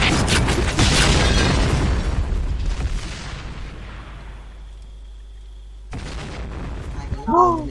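A heavy, booming grenade explosion in a first-person shooter game rumbles and slowly fades, followed by more blasts and a short voice near the end.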